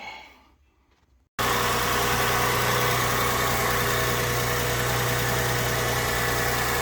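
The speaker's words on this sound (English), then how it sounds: "Sounds like a working downpipe." A 2004-2010 Toyota Sienna engine fitted with a BRE downpipe starts abruptly after a few quiet moments of faint shuffling, then idles loud and close with a steady, even rumble and vibration.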